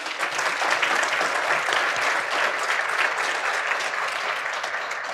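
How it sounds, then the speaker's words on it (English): An audience gives a panel a steady, dense round of applause at the close of a public-affairs discussion on museum and arts funding in Wisconsin. The applause is loud and sustained throughout, with no speech over it. "ask everyone to give a round of applause to our panel"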